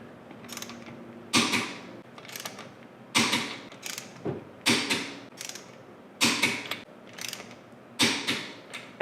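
A torque wrench ratchets on the lug nuts of a Honda S2000 as they are tightened to 75 foot-pounds, giving repeated close clicking and creaking bursts in an irregular rhythm with short pauses between strokes.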